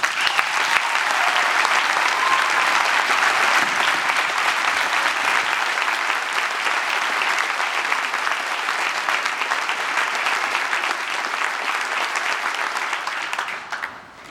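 A community crowd welcomes home the Fort Dodge, Iowa wrestling team with sustained, loud applause and cheering that runs unbroken for about fourteen seconds before fading slightly at the end.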